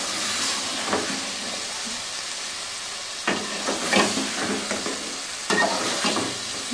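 Boiled chickpeas roasting in a pan for a restaurant-style white chana curry, a loud, steady hissing sizzle punctuated by several bursts of stirring and scraping, no voices.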